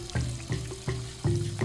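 Running water from a tap splashes during handwashing with soap, a steady close stream with soft rhythmic sloshes as the hands move, no voices.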